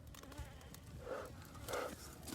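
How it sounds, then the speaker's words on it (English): Africanized killer bees buzz faintly around a hive, with a low droning hum that swells twice as individual bees pass near, over a rough, noisy background. "Africanized killer bees."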